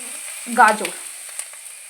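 Onions and vegetables for white sauce pasta fry in a pan with a constant bright sizzle, interrupted by a brief scraping stir near the middle; no one talks.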